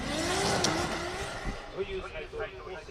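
A Formula Drift car in Japanese qualifying at Ebisu roars and revs as it gets back on throttle mid-corner, its engine note rising and falling amid tire noise, under a commentator's talk.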